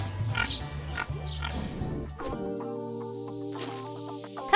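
A baby pig gives a few close, short grunting oinks in quick succession, followed by a steadier tonal squeal that fades out, with no talking.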